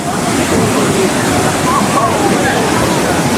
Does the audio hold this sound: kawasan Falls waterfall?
yes